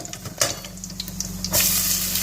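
Grated coconut crackles and sizzles steadily in a pan as it is stirred and fried until it turns red. The frying grows louder and hissier toward the end.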